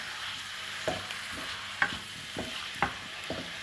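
Onions sizzling in reused kofta oil as they fry toward light brown, a constant close hiss punctuated by four or five crisp spoon scrapes against the pan at irregular intervals.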